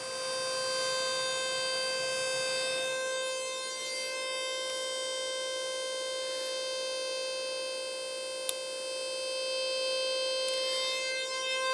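Resonant whine from a 700 State mk 2 eurorack filter kit with its cutoff being swept, a steady siren-like tone stack with high harmonics droning continuously, broken by a couple of brief clicks.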